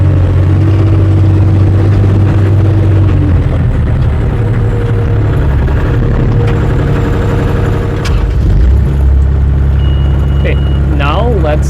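A JoyT5 JT5WL1000 1-ton wheel loader drives along with its engine running loud and steady close by, the pitch shifting slightly as it moves, while a person talks over it throughout.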